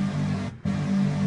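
Heavily detuned synthesizer oscillators layered with noise and filter automation, a hardstyle dragon-roar sound, droning loud and steady with a brief dropout midway.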